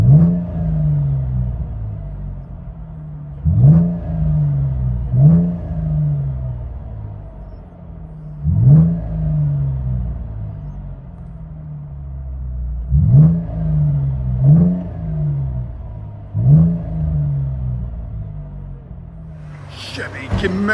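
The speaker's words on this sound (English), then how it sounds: "Chevy Camaro with HKS muffler swap. What do you guys think of the sound?" A 2015 Chevy Camaro 3.6L V6 fitted with HKS exhaust mufflers, stock otherwise, revs repeatedly from inside the car, sharp blips rising over a steady idle rumble roughly every few seconds.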